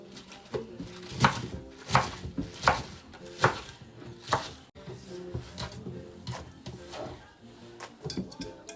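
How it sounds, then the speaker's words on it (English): A knife chops a vegetable into large diagonal pieces on a cutting board, with about five sharp, evenly spaced knocks followed by softer, quicker cuts, heard up close. "I just aim to chop it up diagonally because I like the pieces quite big"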